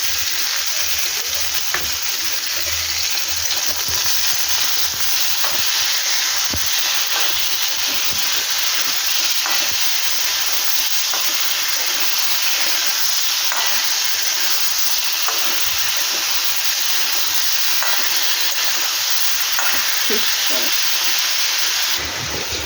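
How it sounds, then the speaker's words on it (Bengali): Potato peels fry in a pan with salt, giving a continuous, even sizzle and hiss throughout, with faint scraping ticks from occasional stirring. "দিয়ে এটা ভাজা করে ফিরছি, ভাজা ভাজা করে ফিরছি।"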